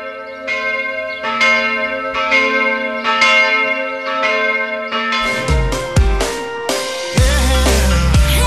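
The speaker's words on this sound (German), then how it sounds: "Sie hören die Glocken der katholischen Pfarrkirche von Breitenbrunn im Burgenland." Church bells of the Catholic parish church in Breitenbrunn, Burgenland, ringing in a steady overlapping peal, loud and resonant, growing denser and more clangorous toward the end.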